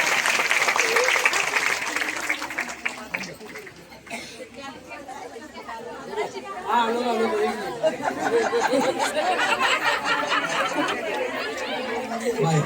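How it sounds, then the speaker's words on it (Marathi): Audience applause for a woman who has won a sari prize in a lucky-draw game at a ladies' gathering, a dense burst of clapping at first, then loud crowd chatter and talking. "माया काकींसाठी जोरदार टाळ्या झाला पाहिजे."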